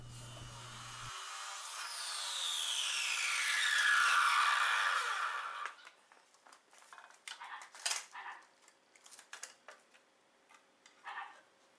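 Threaded rod being cut to length for a trailer outboard motor mount bracket, a steady grinding or sawing whine for about five seconds, then scattered clinks and taps of metal pieces being handled.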